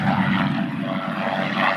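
A fixed-pitch propeller trainer airplane with a straight-line four-cylinder engine drones loudly and steadily overhead at the Houston air show, a continuous rough engine buzz with no pauses.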